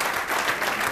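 Applause for town councillors at a municipal council event in Penacova, a brief dense burst of clapping from an audience, close and steady.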